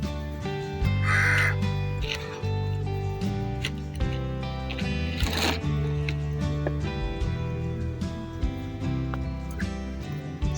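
Crows caw repeatedly while feeding on chapatis, harsh calls scattered over a dense, busy background of other birds and rustling.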